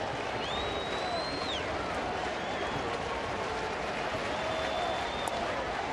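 A baseball stadium crowd roars steadily for the pitcher Chapman at a night game, a dense, sustained wash of cheering and applause with a faint whistle or two over it.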